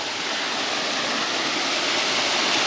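Mountain stream water on the way to Sani Pass rushing steadily, a loud, even wash of flowing water with no pauses and no voices.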